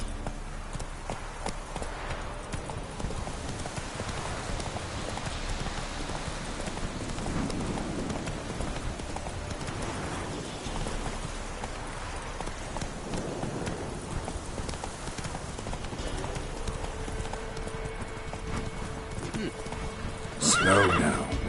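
The horse Roach galloping in The Witcher 3, a continuous rhythmic clatter of hooves with rain and rustling ambience around it, running steadily without pause.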